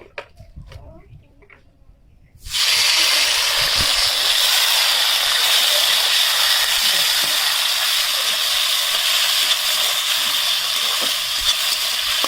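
Tomatoes tip into hot tempered oil while cooking potol bhapa and burst into a loud, steady sizzle that runs on unbroken after a quiet start.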